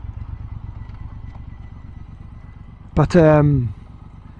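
A Triumph Bobber Black motorcycle fitted with an X-pipe exhaust rumbles steadily on the move, a low continuous engine drone running throughout, with a man's brief spoken word near the end.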